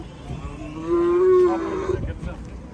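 A single long, loud moo from a nearby bull at a livestock market in Beshariq, rising and holding for about a second, with a faint murmur of background activity.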